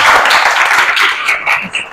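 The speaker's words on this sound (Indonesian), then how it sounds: "Tepuk tangan buat Sino." Classroom applause: a group of students clapping together in a steady, dense patter for the full two seconds, fairly loud and close, with a few scattered voices faintly mixed in.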